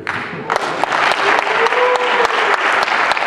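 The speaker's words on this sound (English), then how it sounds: "And the crowd goes crazy." Crowd cheering and applauding a high school drumline at a percussion day event, loud continuous clapping and shouts that swell after a brief opening moment.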